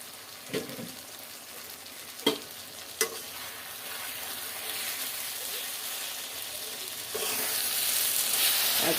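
Mashed-dish ingredients frying and being stirred in a pan at home, with a low sizzle broken by a few sharp clinks of the spoon against the pan, then the hiss swells louder near the end.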